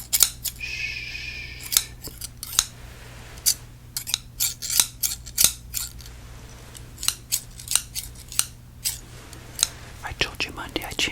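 Scissors snip in a quiet room, a string of crisp close clicks at an uneven pace, beginning with a soft whisper.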